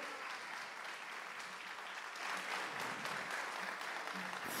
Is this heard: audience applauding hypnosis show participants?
yes